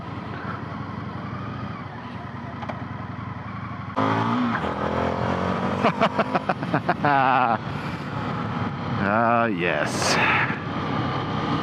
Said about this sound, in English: The familiar power of the FTR. Brilliant engine.